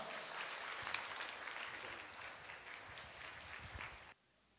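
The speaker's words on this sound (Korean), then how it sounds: "우리 큰 환영의 박수 보내주시길 바랍니다." A church congregation applauds in welcome for a guest speaker, a dense, steady wash of clapping filling the room for about four seconds before stopping abruptly.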